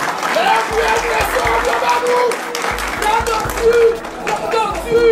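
Audience at an opposition press conference in Haiti breaks into sustained applause, a loud, dense wash of clapping and crowd noise with chatter and a voice carrying over it.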